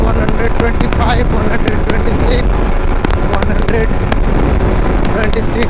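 Yamaha MT-15 naked motorcycle running flat out at top speed in fifth gear, a loud steady engine drone buried in heavy rushing wind noise throughout, with a voice talking over it.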